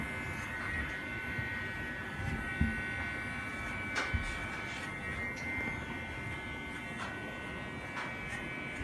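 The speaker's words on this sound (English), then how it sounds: "So gradually allow the clipper to collect everything it needs to collect, everything that it needs to cut." Electric hair clipper cutting hair during a graduated haircut, a close continuous buzzing hum with faint snipping texture and a few brief knocks, heard alone without talk.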